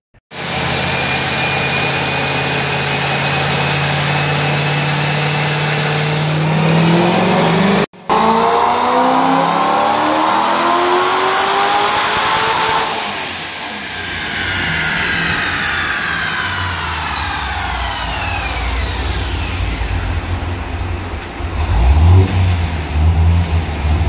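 A supercharged car engine with a large NA cam, heads and headers runs loud and sustained on a dyno, its pitch climbing and falling through long revving pulls with a whining, roaring tone.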